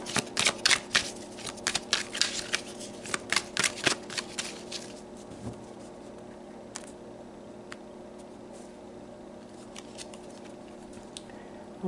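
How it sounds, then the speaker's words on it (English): A deck of oracle cards is shuffled by hand in a quiet room, a quick run of crisp riffling snaps up front that thins into scattered soft flicks and taps toward the end. "let's pull some more cards."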